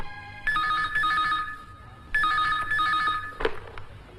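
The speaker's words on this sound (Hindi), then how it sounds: "आपके लिए फोन" A telephone bell rings in two long trilling bursts, fairly faint, with a pause between rings and no talk over it.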